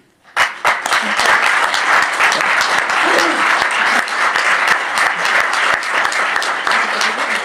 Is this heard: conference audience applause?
yes